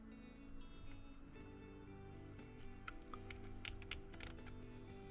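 Typing on a Dell multimedia keyboard, quick irregular key clicks at a steady moderate level over a constant low background hum, with a few sharper keystrokes toward the end.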